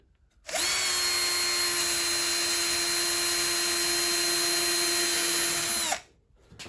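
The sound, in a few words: power drill with small drill bit drilling wood shelf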